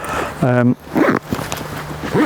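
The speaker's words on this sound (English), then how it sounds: "But we'll zip this up" A camera bag for wildlife photography being zipped shut, a short rasping zip close by followed by rustling and handling noises, with brief speech around it.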